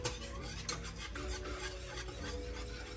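A spoon steadily scrapes and rubs through thick homemade chocolate pie filling in a pan on the stove, a continuous close, soft rasping stir with no talking.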